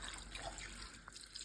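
Beef broth poured over beef stew meat in a crock pot, a soft steady liquid pour and trickle heard close and quiet, with no talking.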